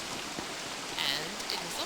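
Soft, steady rain patters faintly in the video game Don't Starve, a quiet hiss with light drops and a voice low in the background.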